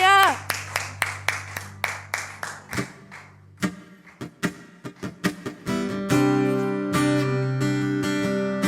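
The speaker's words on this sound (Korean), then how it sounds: "우리 함께 그 자리에서 영광의 박수 주님께 올려드리겠습니다." A congregation at a worship meeting claps together in a quick, even rhythm over sustained keyboard chords, with a voice rising over the music as the clapping continues.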